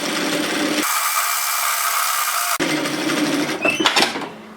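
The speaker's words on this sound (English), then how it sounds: "So I'm just going to edge stitch, top stitch the same distance from each side." A sewing machine edge stitches an apron strap at 5mm from the edge in a loud, steady run that stops abruptly, then restarts with rustling and handling of the fabric, no voices.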